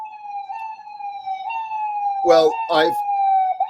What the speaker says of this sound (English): I thought I was going to need an ambulance, and they just arrived.